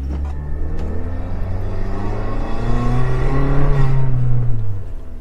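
A modified Suzuki Jimny pulling up a steep hill in low gear, its loud close engine note climbing steadily in pitch as it revs under load.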